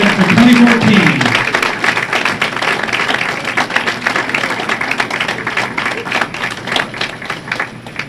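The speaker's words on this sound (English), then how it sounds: "How about a nice round of applause for Shannon, the champion of the BPA All-Sta" Audience applause and cheering at a women's bowling all-star tournament stepladder final, loud, dense and sustained across the whole stretch, with a voice audible near the start.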